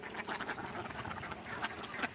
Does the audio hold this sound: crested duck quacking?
yes